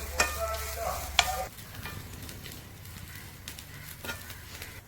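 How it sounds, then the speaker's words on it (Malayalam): Coconut and chili dry-roasting in a pan, a soft continuous sizzle and scrape of stirring, with two sharp clinks early on before the roasting settles into a steady low rustle. "നമ്മുടെ തേങ്ങയും മുളകും ഒക്കെ നന്നായിട്ട് മൂത്തിട്ടുണ്ട് കേട്ടോ"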